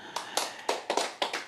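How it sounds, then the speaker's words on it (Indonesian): Several sharp claps in an uneven rhythm in a church, fairly close, sounding like a few people clapping rather than a full crowd. "Tepuk tangan dong."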